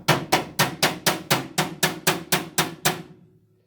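Metal striking metal on a charcoal grill as a stuck part is knocked loose: eleven sharp, evenly spaced taps in quick succession, close and fairly quiet, then silence.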